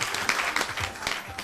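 A studio audience at a fire-safety TV show claps in a short, dense burst of applause that fills the room at moderate level for about a second and a half.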